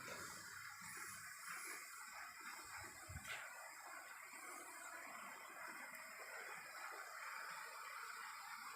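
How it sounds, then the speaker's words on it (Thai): Steady broadband rush of a waterfall in the peaceful grounds of a Thai temple with many carved stone Buddha images, continuous and fairly faint throughout, with a brief soft thump near the middle. "สงบสงเงียมมีเสียงน้ำตกด้วยนะครับ"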